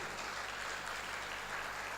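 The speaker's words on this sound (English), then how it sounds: "This is why you need to clap." An audience at an architects' general assembly conference breaks into steady, dense applause, with many hands clapping continuously at close range.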